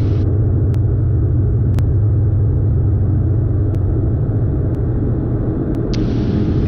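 Engines of a Diamond DA42 twin in flight, a loud steady droning rumble with a constant low hum throughout and faint clicks on top, no voices.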